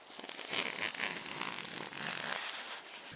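A camera bag zipped shut outdoors in falling snow: a steady, close, rasping zipper pull running continuously for about three seconds with no talking.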